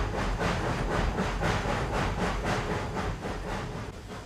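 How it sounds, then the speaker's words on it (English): A coal-fired steam locomotive on the Cumbres & Toltec railroad climbs a steep grade with loud, close, evenly spaced exhaust chuffs over a continuous hiss and rumble. "The engineer must keep the locomotive's drivers from slipping while coaxing the maximum amount of power from the engine"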